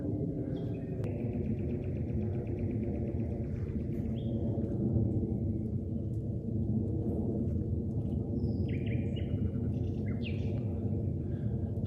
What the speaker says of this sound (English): only the sounds of birds disturb the silence